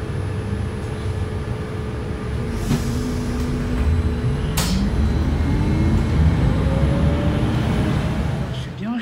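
Riding inside a moving bus: a continuous low engine rumble and road noise, with a couple of sharp clunks and gear-like tonal sweeps rising near the end.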